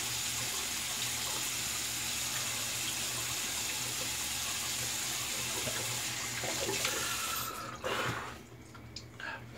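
Tap water runs steadily while a face is readied for a wet shave with a Super-Max Titanium blade, the flow shifting and splashing more near the end as water is scooped up.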